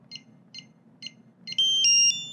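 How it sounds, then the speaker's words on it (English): Three short electronic beeps evenly spaced, followed by a longer, louder sustained tone from an Ultra E Pro keypad lock, close and clear over quiet background. "now you hear those next 3 beeps"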